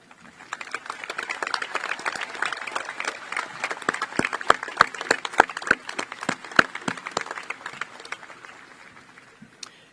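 Magna cum laude graduates are applauded at a high school graduation ceremony, a crowd clapping steadily with some sharp, close individual claps standing out before it tapers off.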